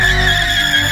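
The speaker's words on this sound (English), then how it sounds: "He's gonna roast the tires off." A Mustang doing a tire burnout, loud sustained tire squeal with a steady high screech over engine roar, close and unbroken for the whole short moment.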